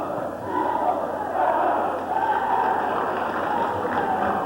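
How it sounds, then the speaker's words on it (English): A large stadium crowd at a Notre Dame football game sends up a sustained, rhythmic roar of chanting that rises and falls in waves. A broadcaster's voice comes through faintly underneath. "Traditional Notre Dame fight cheer there."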